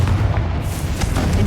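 A Confringo blasting spell goes off in the Hogwarts Legacy video game, a dense, loud, continuous rumble of booming blasts lasting the whole moment with no clear gaps.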